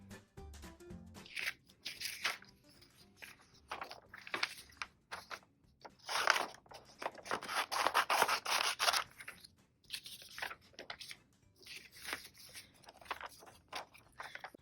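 Scissors snip through paper while an ice cream cone shape is cut out, giving quiet, repeated crunchy snips in irregular bursts with short pauses between cuts.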